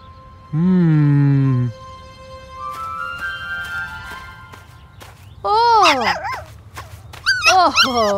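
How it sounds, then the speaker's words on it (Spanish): A cartoon dog barks and whimpers in a few short, bright, pitch-sliding yelps between quieter stretches, with faint background music. "El perro nuevo de Grok es muy lindo."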